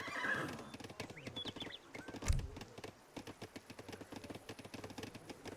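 Horses in the Age of Empires III video game: a neigh and whinny rings out over rapid, overlapping clip-clop hoofbeats of several horses moving together, fairly faint and steady throughout.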